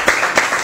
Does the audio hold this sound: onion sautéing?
no